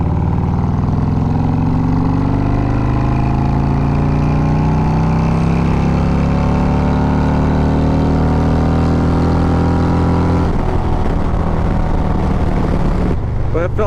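A 2024 Harley-Davidson Road Glide with a Trask Assault air cleaner pulls hard in fourth gear, its loud engine rising steadily in pitch for about ten seconds before it lets off.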